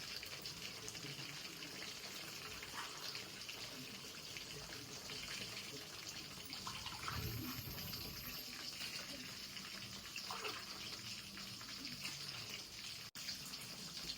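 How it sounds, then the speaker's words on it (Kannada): Water poured steadily into a pot of rice being cooked for chicken dum biryani, a continuous gushing, splashing flow heard close up and fairly loud with no talking. "ನಾನು 4 ಗ್ಲಾಸ್ ನೀರು ಹಾಕ್ತೀನಿ."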